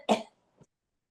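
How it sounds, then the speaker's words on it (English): A single sharp cough bursts out close and clear, followed by a faint, brief throat sound, then silence in a quiet home setting. "Excuse me, I have to cough."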